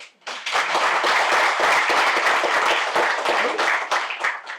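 An audience at a Hansraj College inauguration ceremony gives the principal loud, dense applause. It starts abruptly after a brief pause and holds strong for several seconds.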